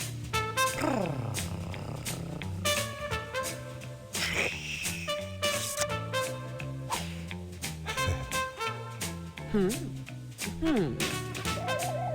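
A cartoon cat purrs in the Toonstruck adventure game, mixed with tonal music and game sound effects.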